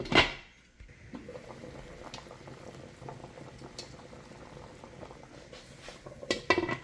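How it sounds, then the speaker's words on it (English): Kidney beans and meat simmer at a rolling boil in a covered pot for African rice and beans, giving a continuous soft bubbling hiss, with a metallic pot or lid clatter at the start and again near the end. "cover this up and let it boil until all of our meat is cooked and until our beans is extremely soft"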